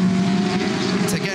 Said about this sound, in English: he lays the big rubber down on the racetrack as he accelerates out of the corner